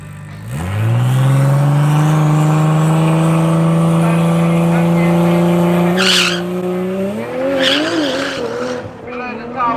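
Drag race cars at a club event at Tarlton International Raceway roar loud and close from the start, holding a steady high engine note before backing off near the finish, with a brief squeal and rising revs toward the end.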